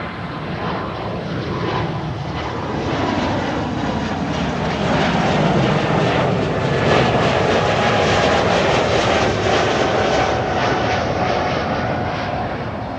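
An Embraer E2 jet takes off at Amsterdam Schiphol, its broad engine roar loud and steady throughout, building slightly toward the middle and holding strong to the end, heard alone without voices.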